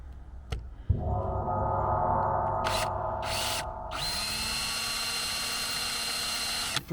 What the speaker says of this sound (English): And then I drill a hole.